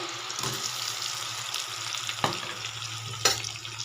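Tomato fries in a pan with a soft, continuous sizzle. A few sharp scraping clinks from a spatula land roughly a second apart, and there is no talking.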